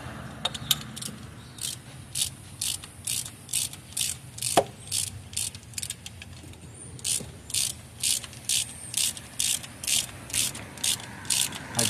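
A hand ratchet clicks in quick repeated bursts while tightening a spark plug on a 2003–2006 Honda Element 2.4, with close, sharp metallic pawl clicks in rhythmic strokes separated by short pauses.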